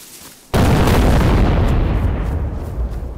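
A grenade goes off in the video game DayZ: after a quiet moment, a sudden loud, close blast erupts and its heavy rumbling roar slowly decays over the next few seconds.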